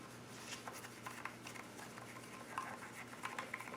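A wooden popsicle stick stirs seeds in a container, making soft, close, granular shuffling and light scraping that comes and goes in small bursts, quiet and without talk.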